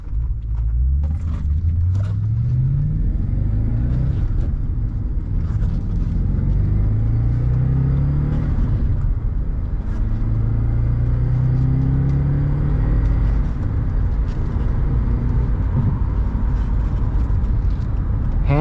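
A 2010 Audi S5 with a 6-speed manual gearbox is driven, its engine and exhaust rumbling up through repeated rising pulls through the gears, each followed by a shift, all heard from inside the cabin.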